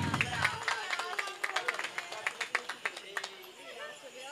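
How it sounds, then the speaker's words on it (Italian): Applause for a rider and an equestrian association at a horseback pentolaccia event in Benetutti: scattered hand claps from a small crowd, fairly close, with voices and chatter mixed in, tapering off toward the end. "Un applauso a Carletto De Sena e a tutta l'associazione ippica benetuttese."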